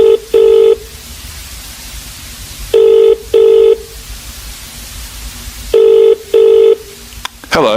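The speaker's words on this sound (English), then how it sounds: "He is phoning her for directions." A telephone rings for an incoming call, giving three paired bursts of a bright electronic double ring separated by quiet gaps, with no talking.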